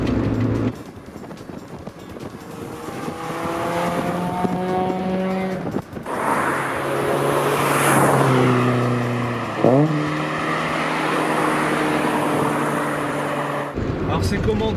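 Engine of a light Toyota AE86 driving on narrow country roads, revving up and shifting through gears with rising and falling tones, heard from inside the car alongside a faint high whine.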